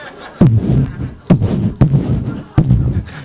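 A voice imitates fireworks launching, giving four sharp, loud percussive bursts, each followed by a short rumbling, crackly tail, spaced about a second apart on a stage.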